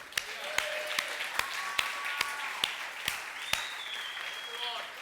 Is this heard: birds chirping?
no